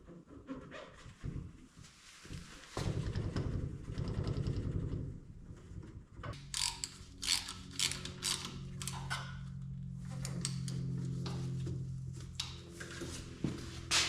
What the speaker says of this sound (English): So I'll have to just tighten the bottom one for now.